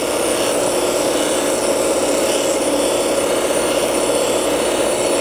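Steady, loud whine of a bench grinder sharpening a TIG welding tungsten electrode, a continuous high-pitched abrasive hiss with no pauses or talking.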